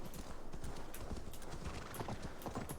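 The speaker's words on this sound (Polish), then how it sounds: "Ewa, zsiadaj z konia" Horse hooves in Assassin's Creed Valhalla clop in a steady, continuous rhythm at moderate loudness, with no talk.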